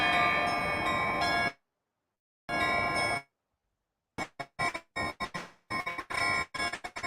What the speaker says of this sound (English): Just to enjoy the bells.